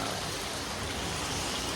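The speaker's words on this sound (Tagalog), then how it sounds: "simula na pong bumuhos yung ulan, yung bagyo" Heavy typhoon rain pours down in a dense, unbroken hiss of drops striking surfaces, loud and close for a short moment, with no voices.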